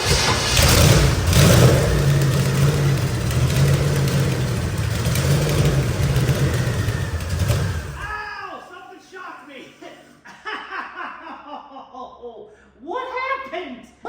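A twin-turbo engine in a 1963 Corvette hot rod fires up for the first time and revs loudly for about eight seconds. It then cuts out, leaving quieter clicks and squeaky sounds under faint voices.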